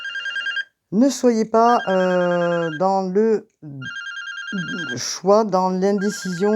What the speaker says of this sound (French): j'ai un téléphone qui sonne